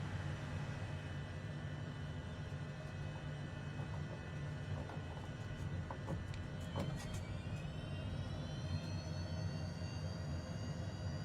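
A Honda Jet engine in a flight simulator game gives a steady, loud jet roar with a low rumble and a rising whine, holding constant throughout with no talk.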